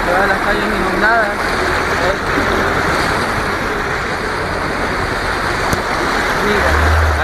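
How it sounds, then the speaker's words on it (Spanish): Floodwater running through the streets of Urdesa, Guayaquil after heavy rain, a loud, continuous rushing wash with traffic-like rumble, heard under someone talking. "Todas las calles inundadas."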